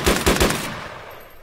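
Automatic gunfire in the Arma 3 video game set on the Chernarus map: a quick burst of three loud, close shots followed by a fading echoing tail, with no talking.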